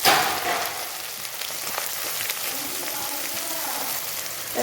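Onions sizzle and fry steadily in ghee for a tori (ridge gourd) sabzi, a dense continuous crackle close up with no talking.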